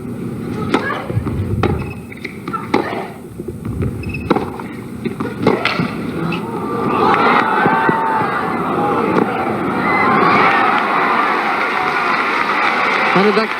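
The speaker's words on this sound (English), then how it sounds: "This crowd was the best." A tennis crowd at the 1997 Los Angeles women's final cheers and applauds, a sustained, swelling roar that builds over several seconds, with scattered claps and a voice talking over it.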